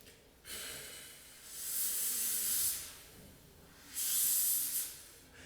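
Air blown across a knife edge to demonstrate how a flute tone forms: breathy, hissing bursts that rise and fall, two stronger airy swells with quiet gaps between.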